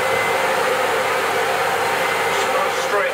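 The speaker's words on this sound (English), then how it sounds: "get my bandsaw going first before the extractor" A bandsaw runs with a loud, steady, close mechanical whir that stays constant throughout, with no cutting variation or speech.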